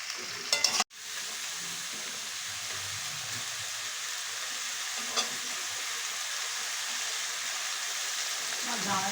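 Taro stolons coated with turmeric fry in a pan, a steady close sizzle that holds evenly after a brief clatter at the start.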